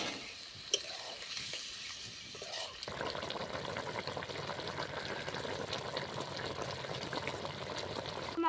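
A bowl of water poured into a pan of chilli soybean curry: quiet stirring gives way to a sudden, steady loud sizzle and bubbling that continues to the end.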